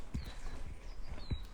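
A horse walks slowly nearby on open ground, with soft irregular hoof thuds and a few faint bird chirps overhead, quiet and without talking.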